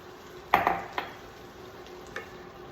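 A spoon stirs sloppy joe mix in a pan just after Worcestershire sauce, red wine vinegar and red wine are added, giving a few close clinks and scrapes over a soft steady sizzle, with no talking.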